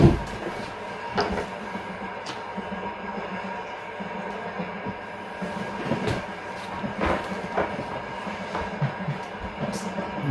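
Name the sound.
Lyon-Marseille train passing the other way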